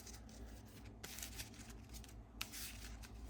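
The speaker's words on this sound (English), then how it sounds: "We're going to shuffle our deck." A deck of Marvel Champions game cards being shuffled up close, with quick riffling flutters and soft slaps of the cards, fairly quiet with no talking.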